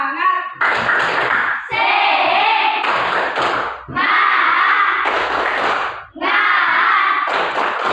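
A class of students performs a rhythmic tepuk semangat clapping routine in a classroom, loud bursts of claps and slaps in patterned groups separated by short pauses, with voices chanting along.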